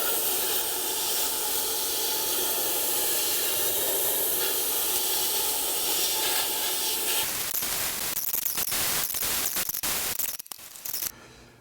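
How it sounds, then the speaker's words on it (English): Glass beads sprayed under pressure over a plastic injection mold surface make a steady, loud, broadband hiss that runs continuously, then breaks into choppy short bursts before stopping. "we just kind of spray over the whole thing with glass beads"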